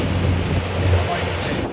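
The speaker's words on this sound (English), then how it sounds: "Then, windy and cold." Wind sweeps across open water on a fishing boat out on Little Bay De Noc, a steady loud rushing buffet on the microphone with a low engine drone underneath, cutting off abruptly at the end.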